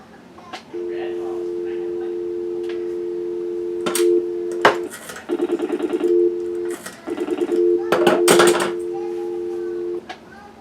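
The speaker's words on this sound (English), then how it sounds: "you can hear the dial pulses" A steady dial tone on a 1940 Western Electric 302 rotary telephone is interrupted by rapid clicking dial pulse bursts, with clunky handling noises between them.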